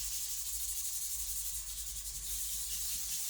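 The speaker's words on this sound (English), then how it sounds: "I'm wet sanding the concrete lamp with 1000 grit sandpaper just to knock off any particles and smoothen" Wet sanding of a cast concrete lamp by hand with 1000 grit sandpaper: a steady, soft, continuous rubbing hiss, close and even throughout with no pauses.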